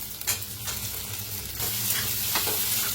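Potato, green chillies and sago pearls roasting and sizzling in a hot pan with a stirring scrape, a steady close frying hiss that swells slightly midway.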